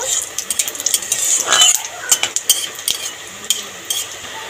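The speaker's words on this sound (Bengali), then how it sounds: "ফোড়নটাকে ভেজে নেব।" Cumin seeds, cloves, cinnamon and bay leaves crackle in hot oil for tempering, with sharp metal stirring clinks and taps against the pan and a light sizzle underneath.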